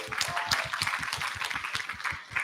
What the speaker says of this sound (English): So join me to give these presenters a big round of applause.